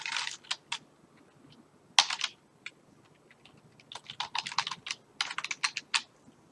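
Typing on a computer keyboard comes through as quick bursts of crisp, close key clicks, split by short pauses, with a denser run of keystrokes near the end.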